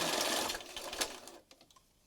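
A sewing machine zigzag stitching hums rapidly for over a second before cutting off, followed by a couple of quiet mechanical clicks.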